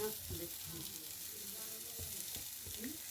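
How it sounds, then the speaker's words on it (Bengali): Ginger paste sizzling in a hot pan as it is added while cooking peas, a steady, moderately faint hiss with occasional stirring scrapes. "এবার আদার পেস্টে আমি দিয়ে দিলাম"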